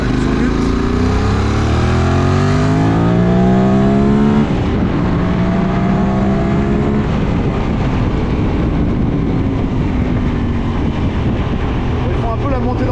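A 2025 QJMotor SRT 600 SX motorcycle engine revs up loudly nearby, pitch climbing through the gears, then drops to a rougher rumble as it rides on.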